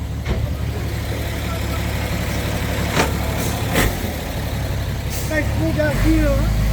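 A dump truck unloads donated soil at a temple grounds in the rain. The loud diesel rumble is steady and close, with a few sharp hissing bursts, and a voice is briefly heard near the end.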